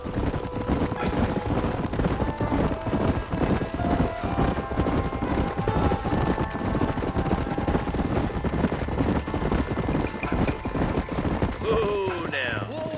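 Horses' hooves clip-clopping in the Red Dead Redemption video game, a steady rhythmic trot that runs throughout over game music and engine-like drone, with a brief swell of other sounds near the end.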